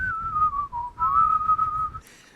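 Several people whistle a gentle, wavering tune together, one sustained melodic line with a brief dip midway, close and clear, ending abruptly.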